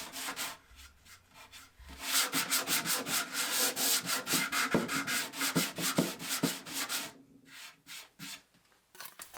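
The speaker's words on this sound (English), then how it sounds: "I ended up doing all the sanding for this project by hand" Pine project boards are sanded by hand, with a steady run of scratchy back-and-forth strokes in quick rhythm, close and fairly loud, pausing briefly near the end.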